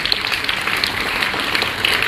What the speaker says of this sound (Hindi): जोर से तालियों से स्वागत करो इन लड़कियों का।